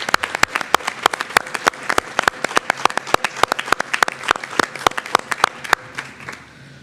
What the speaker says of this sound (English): can we all give them all just a round of applause?